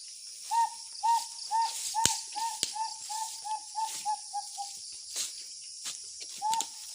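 A bird calls outdoors in the rural Philippines, a series of short, evenly spaced hooting notes repeated steadily for several seconds, fairly close and clear over a faint background of insects, with a pause before one final call.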